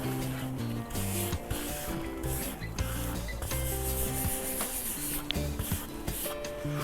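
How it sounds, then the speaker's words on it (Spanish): Steady rubbing and rasping as the sides of a freshly unmolded cement flowerpot are polished by hand, continuous and close over a tonal, melodic backdrop, with no talking. "vamos a pulir lo que son los costados."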